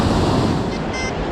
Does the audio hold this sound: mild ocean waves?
yes